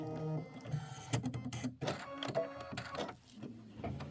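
Embroidery machine stitching a mini quilt heart block with a satin stitch in glide thread, a steady close mechanical whir broken by rapid repeating needle ticks and brief pauses, with no voices.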